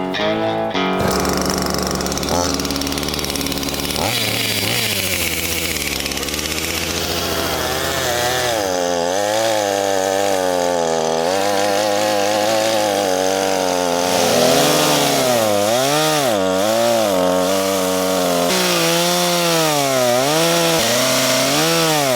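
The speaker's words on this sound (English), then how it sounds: "My brother told me that this chainsaw was going to be dull" A chainsaw thought to be dull runs steadily and loud throughout, its engine pitch rising and falling in waves as it bogs into and cuts through wood outdoors.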